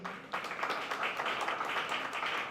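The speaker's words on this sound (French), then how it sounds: "Applaudissez-le, s'il vous plaît." Audience applause at a constitutional law conference in Haiti, a steady broadband patter of many hands clapping at moderate level, beginning after a short quiet moment and continuing evenly without speech.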